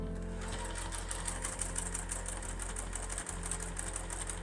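A sewing machine runs steadily, stitching the handle seam of a fabric book sleeve with a short stitch length, its fast, even needle rattle continuous and close throughout with no pauses.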